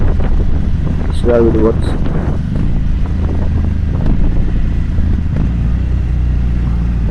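Motorcycle downshifting with a quick throttle blip to match revs, the engine note rising briefly and settling under strong wind noise, while someone talks over it.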